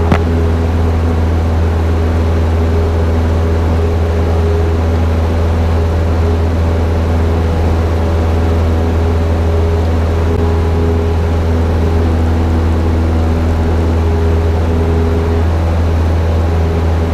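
A loud, constant droning of a Cessna propeller engine heard from inside the cockpit at Chino Airport, a low steady hum with no breaks and no voices.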